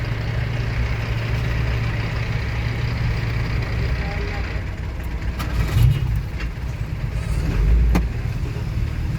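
Cars and trucks idle in gridlocked traffic on a street in Antananarivo, Madagascar, a steady low engine rumble close by, with a couple of brief swells from nearby vehicles and faint voices in the background.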